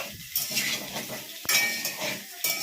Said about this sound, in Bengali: এইবার আমি দিয়ে দিচ্ছি কেটে রাখা আলুর টুকরোগুলো।